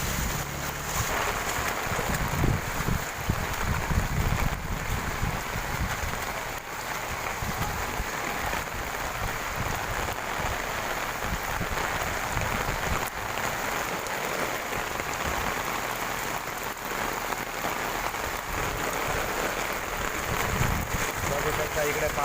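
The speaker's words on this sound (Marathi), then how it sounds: "पाऊस काय थांबण्याचं नाव घेत नाही आहे" Heavy monsoon rain beats down with strong wind on a flooded road in Virar's Kargil Nagar, a dense, continuous roaring hiss that persists throughout while a person talks intermittently.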